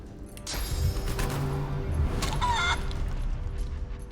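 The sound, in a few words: enemy turned into a chicken clucking in the video game Divinity: Original Sin 2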